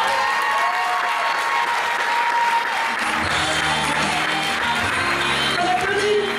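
Audience applause fills a hall at the Miss Ronde Poitou-Charentes 2013 pageant: dense, steady clapping throughout, growing fuller and heavier after the midpoint, with a faint scattered crowd murmur.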